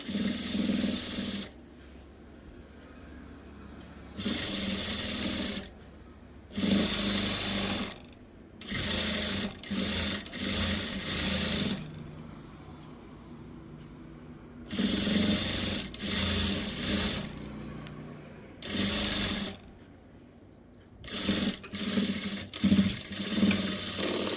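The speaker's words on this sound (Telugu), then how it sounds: "స్టిచ్చింగ్ అయితే వేసేస్తున్నా" A sewing machine stitches piping on a blouse, running in loud bursts of several seconds separated by brief pauses, close and steady.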